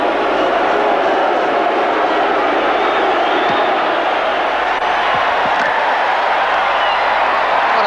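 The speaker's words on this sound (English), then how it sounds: "Already the crowd starting to boo." Stadium crowd at a rugby league test match booing, a loud sustained roar of many voices filling the ground throughout.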